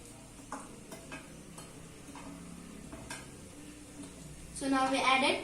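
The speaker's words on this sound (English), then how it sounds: "Let's fry the dry spices nicely. Now let's add onion to it." Dry spices frying in a pan for mint chicken, stirred with soft intermittent scrapes and taps of a utensil, then a louder burst of crackling sizzle near the end as onion is added, all close and fairly quiet.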